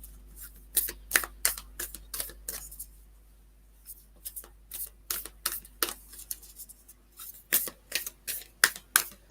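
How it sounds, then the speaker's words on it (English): Tarot cards are shuffled close by in quick, irregular bursts of crisp riffling clicks separated by short pauses, with no talking. "I don't know why I'm shuffling those ones"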